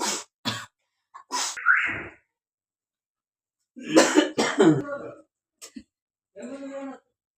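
A person coughing several times in a kitchen while a sambar cooks, harsh bursts in short clusters separated by silence, close to the mic.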